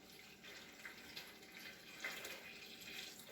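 Water pours steadily into a container of homemade laundry detergent, a faint, continuous splashing wash that runs without a break.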